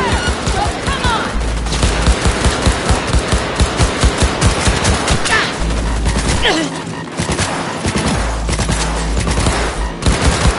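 Rapid automatic gunfire in the video game Cyberpunk 2077, loud and close, with dense bursts of shots, heavy low booms, brief pauses between volleys, and voices shouting over the firefight.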